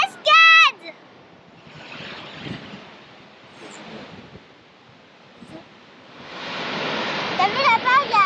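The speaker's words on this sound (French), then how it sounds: "Il y a une cascade!" Gibbon Falls in Yellowstone roars as a steady broadband rush of falling water heard from a viewpoint, building louder toward the end while people talk over it.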